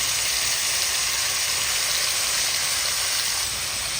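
Chicken meat frying in a pan for ginisang gulay makes a continuous, even hiss and sizzle, close and steady throughout without any talk.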